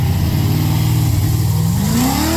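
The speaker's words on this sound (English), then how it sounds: "the Barracuda delivers a satisfying growl that can make any drive a thrilling experience" A 1969 Plymouth Barracuda muscle car engine growls loudly and steadily at close range, its deep rumble swelling into a rising rev near the end, with no voices.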